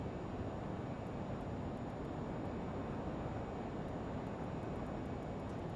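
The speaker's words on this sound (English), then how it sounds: "Or now you just got the fuselage sound of the aircraft flying through the air." Steady broadband wind rush along the fuselage of a Lear35 business jet in flight in a flight simulator game, a constant airy roar with faint high ticks, no talk.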